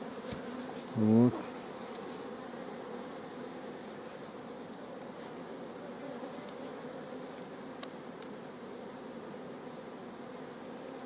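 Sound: bees flying around a beehive

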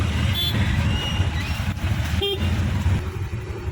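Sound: road traffic with car horns honking

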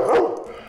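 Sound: therapy dog barking on command

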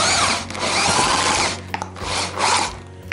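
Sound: homemade electric meat grinder from old Soviet grinder running

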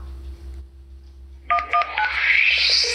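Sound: telephone keypad dialing tones, 911

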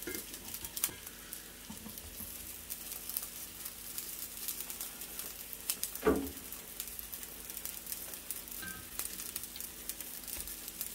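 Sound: Naked Glory sausages frying in fat in a pan

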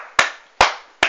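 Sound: people clapping

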